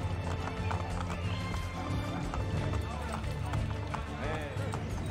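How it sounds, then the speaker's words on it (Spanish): Horse hooves gallop at a steady clip-clop through Rome in Assassin's Creed Brotherhood, with a horse whinnying under continuous game sound and someone talking over it. "Qué chulo de poder utilizar los caballos por Roma, tío."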